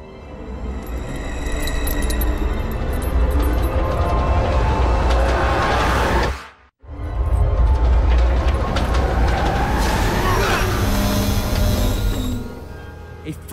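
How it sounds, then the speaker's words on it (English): A magnetic train in a cartoon rumbles steadily along the tracks, loud and close, with a brief dropout partway through before the heavy rolling noise resumes. "Anybody else wondering why there's a train running down here?"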